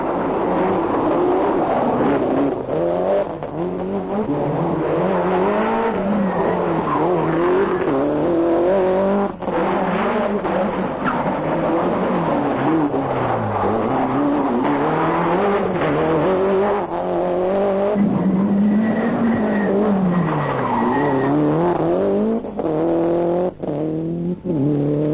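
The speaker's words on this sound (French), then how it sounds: "Sur la deuxième voiture, Carlos Sainz ne ménage pas non plus sa peine, mais une crevaison lui fait perdre de précieuses secondes." A rally car at the 1992 Tour de Corse, driven on a punctured rear tyre, races past with a loud, continuous engine note rising and falling through gear changes and revs, with occasional tyre scrabble.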